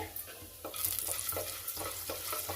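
Urad dal, chana dal and mustard seeds fry in hot ghee for a ginger pongal tempering, a steady close sizzle swelling after a quiet start, with faint stirring scrapes and no talking.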